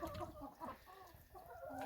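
Hens clucking softly in a backyard flock after being fed Chinese cabbage, a few low, faint murmuring clucks close by with no talk.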